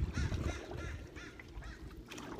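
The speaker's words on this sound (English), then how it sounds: "There's two crows, and they're having an argument." Two crows call back and forth across a lake, trading harsh, repeated caws in an uneven rhythm, heard faintly from a distance with no talking.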